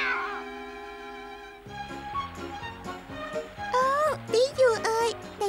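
An animated cartoon cat meows and yowls in several drawn-out, pitch-bending cries, close and loud, mixed with character voices and background music.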